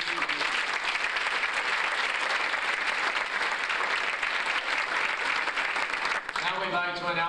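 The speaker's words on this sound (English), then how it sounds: "How about a round of applause for our entire team?" A crowd at a 1997 sports banquet claps for the team, with sustained loud applause before a voice begins speaking near the end.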